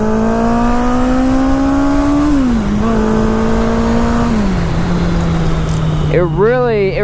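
A used motorcycle revs loudly as it accelerates up a mountain road, its engine pitch climbing through the gears and dropping at each shift, with a voice briefly heard at the end.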